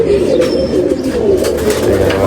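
Pigeons at a loft in Wadala, Nashik, coo in low, repeated throaty rolls close by, several birds overlapping, with no voices.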